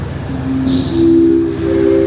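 Steady rumble and hum inside an economy-class carriage of the KA Lodaya train, with rising tonal whine from the running gear swelling and shifting, continuous and fairly loud with no talk.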